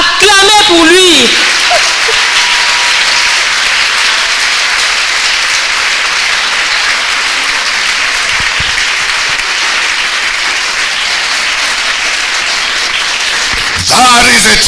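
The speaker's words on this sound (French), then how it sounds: "Clap for him." An audience applauds a champion with sustained, dense clapping that holds steady at full strength for about thirteen seconds, then stops sharply near the end.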